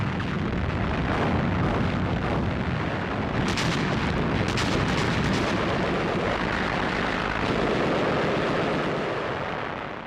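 A WWII artillery bombardment at El Alamein rumbles as a dense, continuous roar of guns and explosions, with a few sharper cracks rising above the steady din.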